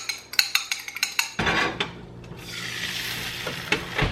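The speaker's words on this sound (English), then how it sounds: "I'm just gonna mix these up in a bowl." A fork beats two eggs in a bowl for scrambled eggs, with quick rhythmic clinks against the bowl for about a second and a half, then a steady close hiss with a few scattered clicks.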